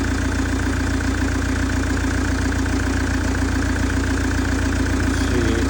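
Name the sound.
Hyundai Terracan 2.9 turbo diesel engine running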